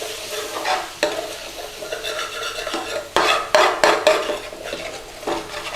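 A utensil stirs and scrapes base gravy around the bottom of a sizzling pan for a tikka masala, with repeated close metallic scrapes and clatters in an uneven rhythm over a steady frying hiss.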